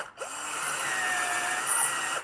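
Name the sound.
power drill bit drilling through roller skate hole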